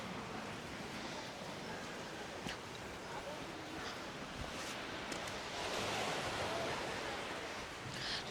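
Waves crash against rocks below a clifftop castle ruin near a waterfall, a steady broad roar of surf and wind that swells toward the end, with no clear talk over it.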